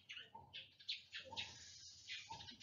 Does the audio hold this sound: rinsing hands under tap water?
no